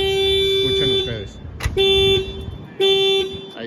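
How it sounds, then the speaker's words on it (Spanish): Car alarm on a 1992 VW Sedan triggered as a door is opened, sounding loud, steady electronic tones in repeated bursts with short breaks between them, close by. "Ahí como se dispara la alarma de chapa bancaria"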